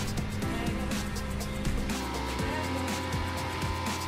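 Video game motorbike engine whines and shifts pitch in quick, stepped bursts, racing at a moderate level with no talk over it.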